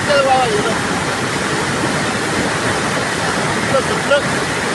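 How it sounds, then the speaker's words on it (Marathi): An overflowing river at the Moshi–Chimbali bridge near Pune rushes beneath it in a loud, steady roar of churning water that barely changes, with faint voices in the background. "पाणी भरपूर वाढले इकडे वर पण पाणी आले"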